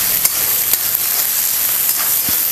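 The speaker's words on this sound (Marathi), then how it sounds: "आता आपण कांदा घालूया" Thinly sliced onion frying in hot oil in a pan, a steady close sizzle with a few faint clinks, no talking.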